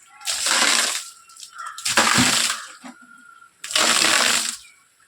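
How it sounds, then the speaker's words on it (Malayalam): Buckets of water poured during well cleaning and mud removal, three loud broad splashing gushes, each about a second long, separated by short gaps. "ആ ഒരു ബക്കറ്റ് വെള്ളം ഇങ്ങോട്ട് ഇറക്കി"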